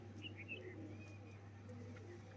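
A pair of pigeons gives soft, faint cooing and a few thin chirps over a steady low electrical hum, with no talk.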